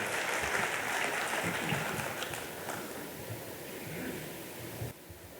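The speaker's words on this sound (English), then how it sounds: "can we give a huge round of applause for the chief guest of this session?" A convention hall audience at a national cost and management accountants' gathering gives a long round of clapping, dense and steady at first and then gradually thinning before cutting off.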